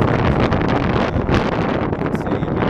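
High wind in freezing winter mountain conditions roars hard against the microphone in a loud continuous buffeting rumble with gusty surges.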